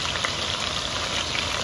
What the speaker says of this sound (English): I'm gonna add in the lamb that I rinsed. So you want it to sizzle.